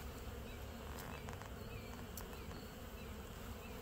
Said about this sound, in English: They've got quite a few bees up here eating on top of it.